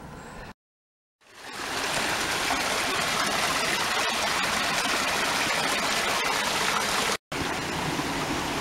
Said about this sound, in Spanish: Por aquí sigue el río.